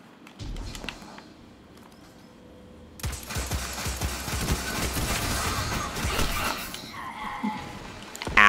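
Gunfire in a Destiny 2 beta multiplayer match, with quieter game movement and scattered shots early, then a sustained burst of dense rapid firing from about three seconds onward, loud and continuous to the end.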